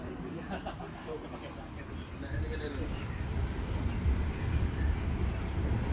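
Steady rumble inside a moving KA Gumarang economy new-generation passenger train in Indonesia, a low, continuous rolling noise that grows slightly louder, with faint voices in the carriage.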